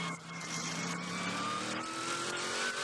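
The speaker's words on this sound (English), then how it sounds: "Loving the sound of this as they come back through." A race car engine at the Daytona 24 Hours sings loudly as the car passes, its pitch sliding through gear changes in a continuous, close roar with no voices.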